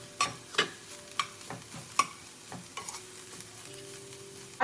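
Onion and grated coconut fry in a pan as a spoon stirs and scrapes in distinct strokes over a soft, steady sizzle. The sound is close and fairly quiet, with no voices.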